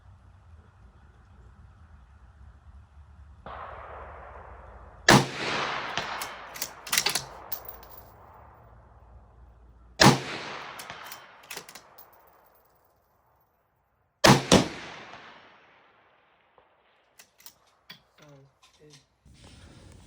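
Three sharp rifle shots from a Mossberg bolt-action firing 77 grain open tip match rounds at 220 yards, spaced about five seconds apart, each a loud crack with a fading tail over a quiet outdoor background.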